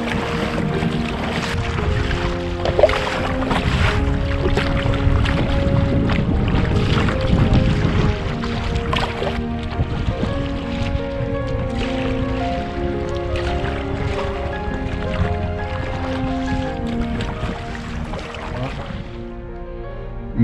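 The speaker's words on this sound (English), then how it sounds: "there's a bit of wind on the big lake" Strong wind on a big lake buffets the microphone in a steady rush while a canoe is paddled, with low rumbling gusts and faint water sounds throughout and no talking.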